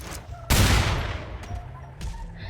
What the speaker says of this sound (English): That sounded like one shot.